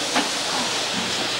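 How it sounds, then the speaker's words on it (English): Steady hissing steam in a prison laundry or boiler area, a loud continuous broadband hiss filling the whole moment with no pauses. "This bloody steam's not helping, though."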